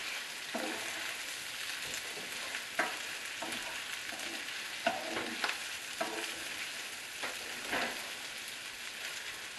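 Corned beef with garlic granules stirred in a pan, a quiet steady frying crackle punctuated by irregular scraping strokes of the spoon, close and with no talking.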